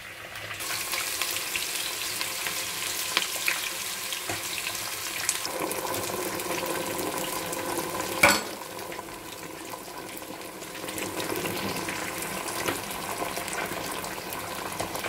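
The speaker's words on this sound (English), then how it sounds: "Most of all the time I know they boil them, I fry them like that" Tomatoes frying in a pan for a rice and stew dish: a steady moderate sizzle and hiss with faint stirring, one sharp clatter midway, then a somewhat quieter sizzle.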